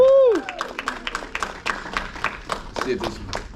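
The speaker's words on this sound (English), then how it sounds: "please, ladies and gentlemen, give a round of applause for the cast of the Edgar Allan Poe Experience!" An audience applauds and cheers the cast of the Edgar Allan Poe Experience showcase at a 2023 spooky spectacle in Granbury, Texas. A loud whoop opens, then a dense run of claps follows, with voices shouting underneath.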